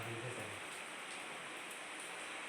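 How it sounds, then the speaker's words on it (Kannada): Steady rain falling outdoors on farmland at the onset of a shower, a dense even hiss throughout with a brief low voice murmur near the start. "ಮಳೆ ಅಂತೂ ಈಗಿನ್ನೂ ಸ್ಟಾರ್ಟ್ ಆಗಿರೋದೇನು ಜಾಸ್ತಿ ಹೊತ್ತು ಆಗಿಲ್ಲ"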